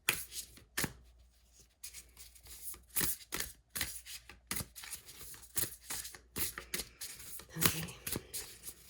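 A deck of Energy Oracle cards being shuffled by hand, a steady run of quick papery riffles and slaps coming close and fairly quiet, with no talking.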